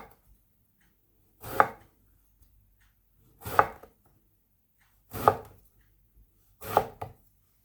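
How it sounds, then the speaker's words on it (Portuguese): Four evenly spaced knife chops on a board cut vegetables into finger-length pieces, each a single clean thud with quiet pauses between. "Cortar no comprimento de 2 dedos."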